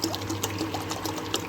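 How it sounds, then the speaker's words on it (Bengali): Water pours steadily into a cooking pot before being heated for basmati rice, giving a continuous close splashing gurgle with small bright splashes throughout. "আগে একটু জল গরম বসাই"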